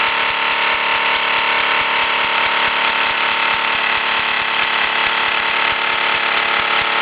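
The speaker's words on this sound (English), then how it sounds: "not bad for a 40-year-old toy steam engine" A 1967 Mamod SE2 toy steam engine runs steadily, giving a continuous fast mechanical whirr and chuff with a dense, even rhythm that stays loud and close throughout, with no talking.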